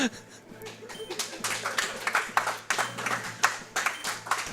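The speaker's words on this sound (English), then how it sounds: "I don't know why they're clapping for that" An audience at a live Pokémon Fire Red / Leaf Green speedrun race event claps in scattered, irregular bursts that swell and fade, at moderate volume.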